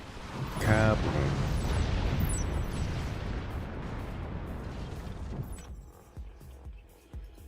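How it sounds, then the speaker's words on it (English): Explosions in the strategy video game Forts: a loud burst followed by a long rumbling roar that slowly fades, with scattered smaller pops and thuds toward the end. "Kaboom."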